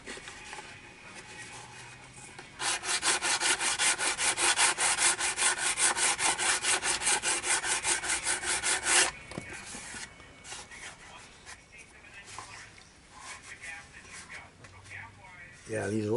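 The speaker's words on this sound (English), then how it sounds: "One thing about resin, it sands very, very, very fast." Steady rapid rasping of sandpaper on resin parts of an RV6 model airplane, loud and continuous for about six seconds, then stopping as a voice talks over quieter handling noises.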